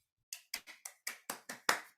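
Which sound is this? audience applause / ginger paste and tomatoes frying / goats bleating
audience applause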